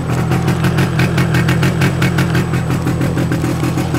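A four-wheeler engine idling steadily up close, a loud continuous mid-pitched rumble with a fast even pulse throughout.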